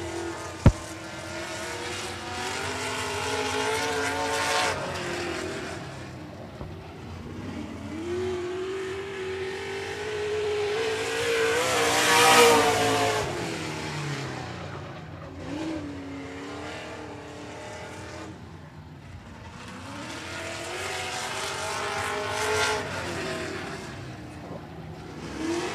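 Race cars lapping 105 Speedway during a regular race program, engines roaring and rising in pitch as cars pass close by in loud sweeps, with a continuous background drone of the field circulating.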